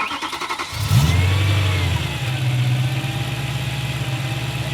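A BMW M3 fitted with a freshly installed aFe intake cranks over and fires, its engine settling into a steady, loud idle that carries on alone after a brief rev at startup.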